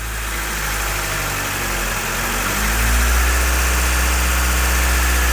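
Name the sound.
1991 Honda Civic Wagon engine running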